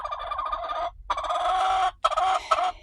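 Chickens, including a stressed hen going through a molt, cluck and squawk loudly up close in three long bursts separated by short gaps, with no talk.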